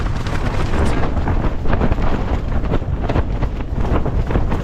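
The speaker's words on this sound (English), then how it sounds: "the tent's just absolutely getting hammered by the wind" Strong wind gusts batter a tent while camping in the woods at night, a loud, continuous roaring rush that swells and buffets with no let-up and no voices.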